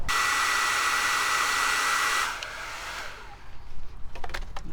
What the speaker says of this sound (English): Let's hit it with a hairdryer.